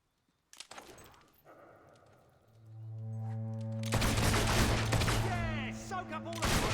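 Gunfire rattles through a battle in the video game Fable 2: a sharp crack, then a sustained rolling volley over a low tonal drone. Brief noisy bursts suggest more shots or voices.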